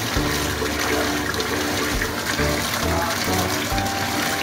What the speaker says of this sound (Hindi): ठंडे पानी के साथ इसको आपने वॉश करना है स्पैगेटी को